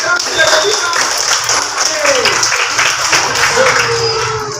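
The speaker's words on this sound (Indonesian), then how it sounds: "Ayo tepuk tangan." Children clap at an elementary school in Ternate, a quick ragged burst of applause under an adult voice and chatter in a classroom.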